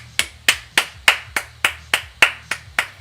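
Hands clapping in a steady, even rhythm, about ten sharp, close claps spaced roughly a third of a second apart, loud and alone with no talking.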